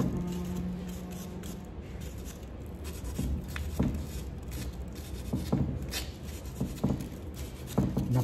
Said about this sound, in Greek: Και αρχίζει με το τρίψιμο.